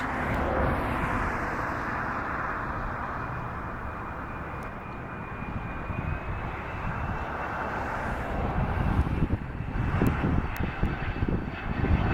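A Cessna Citation business jet on a shaky landing approach at Dulles roars steadily overhead, a loud broad engine rumble with a whining tone that swells and turns rougher toward the end.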